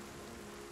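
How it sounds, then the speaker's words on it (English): Steady rain in the video game Project Zomboid, a soft, even hiss of falling water with no breaks, faint and alone. "Since it's raining."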